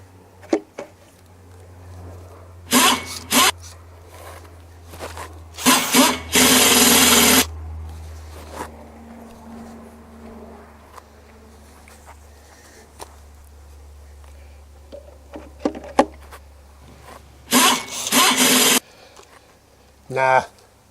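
Wheels go onto a homemade hill trolley with an improvised rattle gun, which fires in several short loud whirring bursts separated by quiet handling noises and clicks, close up, with someone talking at times.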